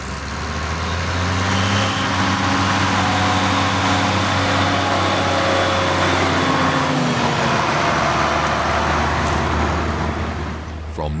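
A mid-1970s Schlüter Super 1500 TVL tractor with a 7.1-litre, 150-horsepower engine working, its loud, steady, heavy diesel drone running without break throughout.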